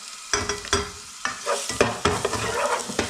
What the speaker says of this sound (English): I'm going to put in the oil, I'm just going to put in the ginger, garlic and the chilli first of all, get that started off